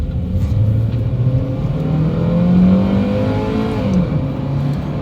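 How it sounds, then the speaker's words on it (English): A 1997 Honda Orthia's B18B engine drones and revs steadily, its pitch climbing and holding in a loud, sustained whine toward redline with no voices. "So you just slam on the accelerator, and it just like it screams."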